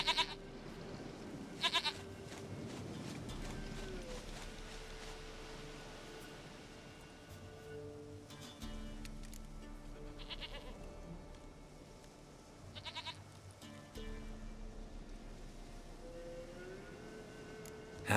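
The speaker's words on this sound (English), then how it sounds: "Goat of mine, dearest," Goat bleating in The Witcher 3: Wild Hunt video game, a few wavering bleats spread across a quiet stretch, rising and falling over a low steady hum.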